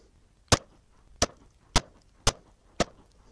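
A Remington HTP 115 grain +P round is fired through a chronograph during velocity testing, five sharp evenly spaced gunshots cracking out alone in a quiet setting.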